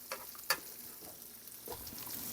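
Onion frying in a pan for fried rice, a quiet sizzle with a couple of sharp stirring clinks near the start, heard alone at low volume.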